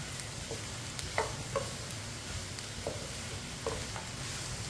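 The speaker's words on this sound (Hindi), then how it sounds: "अब इसे 2-3 मिनट के लिए पका लेंगे। इसी तरह इसे चम्मच चलाते हुए पकाना है" Ridge gourd frying in oil in a pan, a soft constant sizzle broken by a few light spoon scrapes and taps as it is stirred, faint and close, with no voices.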